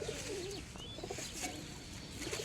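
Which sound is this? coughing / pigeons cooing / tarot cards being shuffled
pigeons cooing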